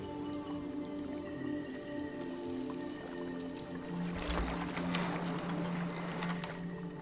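Soft water sloshing and dripping with a rhythmic splash of oars as a boat is rowed in the video game Detroit: Become Human, calm and close, over a gentle background hum.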